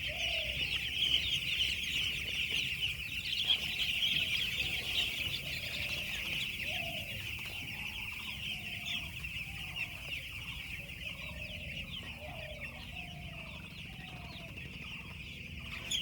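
Farmed chickens cluck repeatedly in a village poultry shed, a steady chorus of short calls over constant background hiss, moderately distant and fairly quiet.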